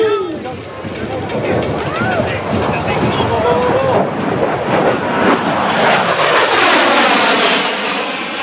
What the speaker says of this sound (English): Ladies and gentlemen, to your right, Captain Fuller in the A-10 Thunderbolt II.